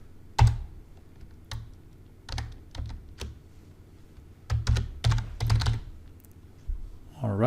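A password typed on a computer keyboard, in irregular clusters of close, crisp key clicks with gaps between them and a soft hum beneath.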